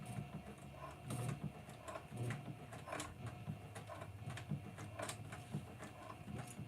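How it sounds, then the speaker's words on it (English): A sewing machine top stitching a bag at stitch length 5 runs in a steady, fairly quiet mechanical whir with faint rhythmic clicks throughout. "So my top stitching I'm going to put at a length of"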